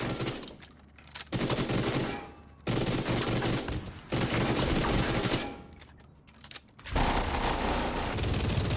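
Sustained bursts of automatic gunfire in The Division 2 shooter, aimed at armored legendary Warhound enemies, loud and close, in several long volleys separated by brief pauses.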